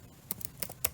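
Computer keyboard being typed on, with several quick soft keystrokes in a brief, fairly faint burst and no voices.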